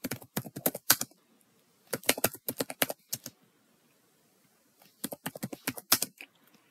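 Computer keyboard tapping while filling in a Canada visitor visa form, close, crisp keystrokes in three quick bursts separated by silent pauses, with no voices.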